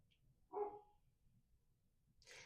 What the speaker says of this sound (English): Forgive my neighbor's dog.